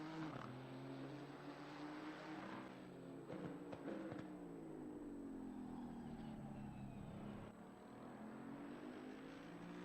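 A race car engine in a sim racing game at Misano drones through gears, its pitch sweeping up and down steadily, faint and continuous.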